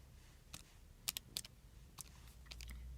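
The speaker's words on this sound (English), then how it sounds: "So in my calculator, I'm typing that in." Soft, quick calculator button presses click in small bursts against a quiet background, with brief pauses between groups of taps.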